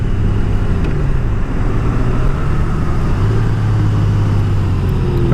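A 2019 Honda Goldwing motorcycle rolls on the throttle on the road, its engine drone climbing steadily in pitch as it accelerates, close and continuous under wind and road noise.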